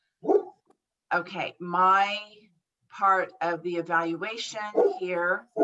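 A sick pet dog gives a short bark early on, then someone talks steadily through the rest of the meeting, his voice dominating with the dog in the background.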